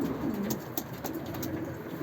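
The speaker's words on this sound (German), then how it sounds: "Das sind alles Tauben, die jetzt noch nicht gepaart worden sind" Racing pigeons coo softly and continuously inside a loft, several birds overlapping in a low, murmuring chorus heard close by.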